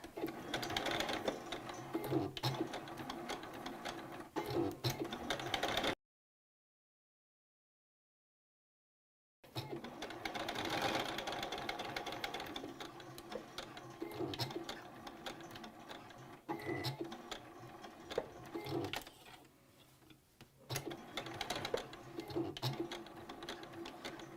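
A sewing machine runs back and forth over elastic on a fabric face mask. It gives a steady, close mechanical whir in two bursts separated by a short silent pause.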